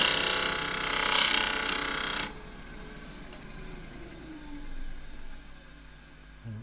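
Woodturning lathe truing up the top of a loquat board, a loud whirring cut with a gritty scrape for about two seconds, then the tool lifts and a quieter motor hum continues with light grinding.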